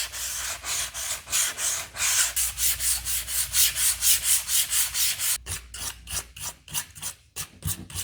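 A surface is hand sanded with 220-grit sandpaper in light, steady back-and-forth strokes, each producing a close, rhythmic rasping rub, quickening slightly toward the end.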